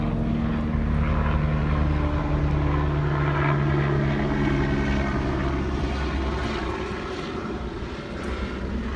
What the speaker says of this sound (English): And thank you, helicopter.